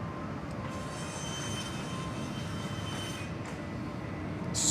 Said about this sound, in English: Spring Airline 7502 heading off to Chengdu in China. Just rolling down runway right now.